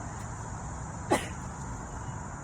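A single short sneeze bursts out partway through, over a steady background hum, otherwise quiet.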